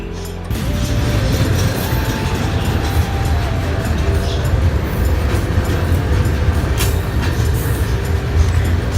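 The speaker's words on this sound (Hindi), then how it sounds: "इस रेल को कहा जाता है मालगाड़ी रेल" A freight train rumbles past steadily and loudly with clanking, rattling wagons and mechanical grinding, starting abruptly after a brief quieter moment.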